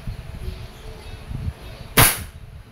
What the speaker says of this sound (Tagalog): Ngayon, try naman natin yung double action. Firing.